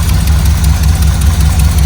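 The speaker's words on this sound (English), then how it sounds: "Still kind of sounds like you got something, maybe valve train noise up there." A Vortec 350 V8 engine idles nearby with a steady, loud, deep rumble and a faint ticking from the valve train running throughout.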